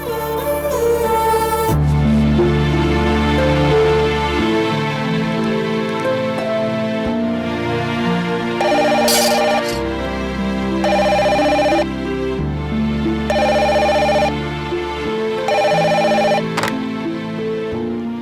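Telephone ringing in a house, a repeating electronic ringtone in regular bursts over a musical backing, loud and close, no talk.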